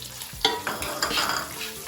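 Chopped onions sizzling and frying in spice masala in a pan, a steady close crackle with a few stirring scrapes, no talk.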